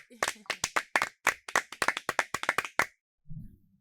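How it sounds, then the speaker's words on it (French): Scattered applause from a small audience at a school speech in France, about a dozen sharp, close hand claps in a quick uneven run, then a brief low murmur of talk. "Sous vos applaudissements"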